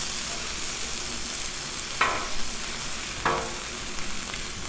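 Jalapeños and vegetables sizzle loudly on a Blackstone griddle in a continuous hiss, broken by two sharp scraping strokes of a spatula tossing them about.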